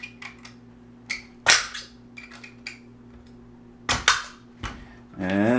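Metal pins being pushed out of a Tavor rifle trigger pack give a few sharp, close metallic clicks and snaps spread over several seconds, separated by quiet gaps, with some light handling noise and a final scraping slide.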